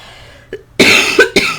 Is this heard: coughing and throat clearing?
yes